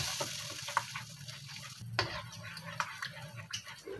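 Ground chili paste with garlic and ginger fries in a pan for a chicken sambal, giving a steady close sizzle broken by stirring scrapes and clacks, with no talking.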